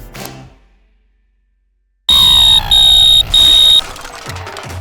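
After a moment of silence, a smoke alarm sounds three loud, piercing beeps in a row, followed by some background rumble.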